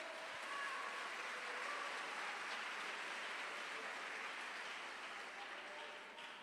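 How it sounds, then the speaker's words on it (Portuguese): A church congregation applauding, heard as a continuous soft patter of many hands at a steady level, somewhat distant and muted, tapering slightly at the close. "Pode aplaudir a Ele."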